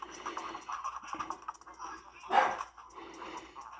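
A pet dog barks in a short burst at close range, the loudest sound landing near the middle of the clip, with household background noise around it.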